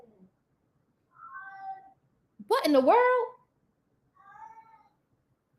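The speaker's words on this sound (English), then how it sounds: "that's the daggone cat making that noise." A house cat meows twice, close and clear, with a person's brief startled remark between the two calls in an otherwise quiet room.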